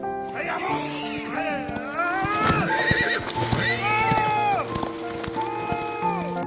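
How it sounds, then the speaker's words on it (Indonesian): A horse neighs and whinnies repeatedly over steady clip-clopping hooves, a loud, busy sound-effect bed in a narrated story about a royal cook riding a horse, with background music throughout. "Sam menunggang kuda."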